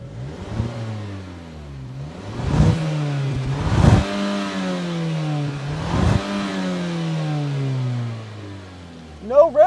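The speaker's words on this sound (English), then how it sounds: "All right, Tommy, ready to rev the Mazda" A turbocharged Mazda 3 engine revs in several rising and falling bursts, fairly close and steady in level, with a brief sharper rev at the very end.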